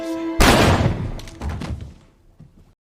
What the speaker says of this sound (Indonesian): Grace langsung melepaskan tembakan tepat ke dada Patrick.